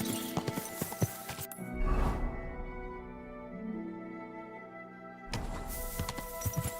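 A horse's hooves clip-clop in a rhythmic series of sharp knocks in the medieval video game Kingdom Come: Deliverance 2, breaking off for a moment in a quieter stretch with a faint whinny before the hoofbeats resume.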